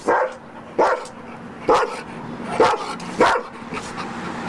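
A guard dog barks five times in a steady rhythm, close and loud, each sharp bark spaced under a second apart with no voices.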